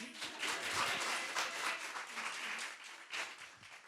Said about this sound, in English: Y'all clap it up for Renee